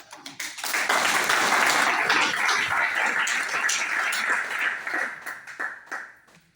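An audience at a political party meeting breaks into sustained, loud applause that swells and holds for several seconds before thinning out into scattered claps.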